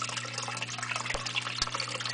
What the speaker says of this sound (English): I just pour in the water